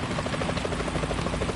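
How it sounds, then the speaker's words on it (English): A helicopter in the video game Metal Gear Solid 2 drones steadily with a rapid rotor chop, loud and continuous throughout with no voices. "Is that a chopper I just heard?"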